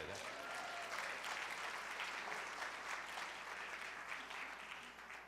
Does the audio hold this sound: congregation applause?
yes